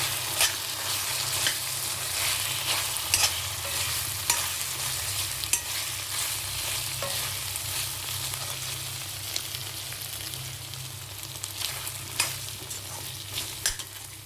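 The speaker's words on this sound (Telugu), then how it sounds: "అల్లం వెల్లుల్లి పేస్ట్ బాగా వేగాలి." Ginger garlic paste fries in a pan for mutton keema curry with cashews and drumsticks, a loud, steady sizzle under frequent scraping stirs, with no talk.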